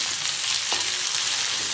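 Chopped onion and chili fry in oil for masoor dal, a continuous bright crackling sizzle that stays even and close throughout, with no talking.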